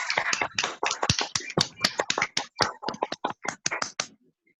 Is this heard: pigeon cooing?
no